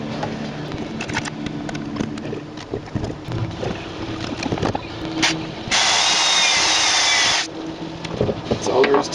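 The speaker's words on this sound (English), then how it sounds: "let's drill this" A power drill bores a hole while a broken window winder crank operator is replaced. One steady, loud, high whine lasts under two seconds amid quieter handling noises, with talk elsewhere.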